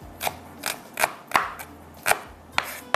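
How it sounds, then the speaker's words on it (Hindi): A knife chops food finer on a board for frying, giving about eight crisp, close knocks in an uneven rhythm with no talking. "यहाँ पर इसको मैं थोड़ा सा और बारीक करती हूँ"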